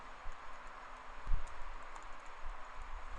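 Soft, irregular clicks of typing on a computer keyboard, close by and fairly quiet, with a few louder keystrokes standing out over light background hiss.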